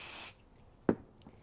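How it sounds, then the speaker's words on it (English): Short burst of OD505 temporary basting spray misted onto Soft and Stable foam stabilizer while sewing minky fabric slippers, a single quick hiss under a second long, near and fairly loud against a quiet room. "I'm just going to spray the Soft and Stable, and then we'll stick the slipper gripper on there."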